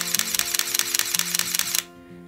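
A Sony α9 camera fires its mechanical shutter in a rapid burst of about a dozen crisp, evenly spaced clicks up close, then stops abruptly into near silence.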